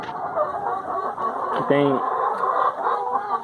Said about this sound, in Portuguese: Vou mostrar pra vocês uma criaçãozinha aqui de galinha poedeira.